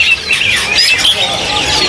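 Birds at a bird market call near a pair of Raja Perling mynas, with a few sharp high chirps and whistles over a busy, noisy background, fairly loud and close.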